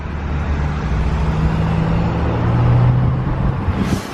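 A tuned pickup truck accelerates hard, its engine holding a loud, steady drone heard from inside the cab, with a rising whine as the tires spin near the end.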